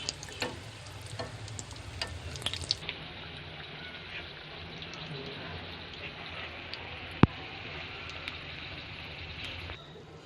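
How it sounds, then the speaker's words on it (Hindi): Chicken kachori deep frying in hot oil, a continuous soft sizzle and bubbling with a few clicks and one sharp tap, fairly quiet and close. "हल्का हल्का हम इसे डीप फ्राई करते जाएंगे"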